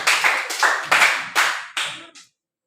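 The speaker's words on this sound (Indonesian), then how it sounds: "fungsi stabilitas. Tepuk tangan." Classroom group at a university lesson clapping in a rhythmic pattern, about six short bursts in quick succession, fairly close, ending abruptly into silence.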